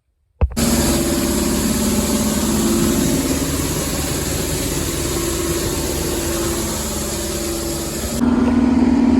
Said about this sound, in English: Trying to get upwind from the tractor. That old Screaming Jimmy there, that is a loud, loud beast.